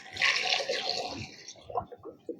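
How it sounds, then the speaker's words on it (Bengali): Cut raw mango pieces are swished and rinsed in a bowl of water, with brief splashing and sloshing that fades, followed by a few soft drips and clinks. "আমের টুকরোগুলো একটু ধুয়ে নেব"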